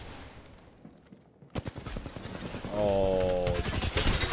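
Rapid gunfire in Apex Legends aimed at a Mirage decoy clone, bursts of shots starting abruptly and growing denser and louder, with a steady tonal in-game effect layered over the later volleys.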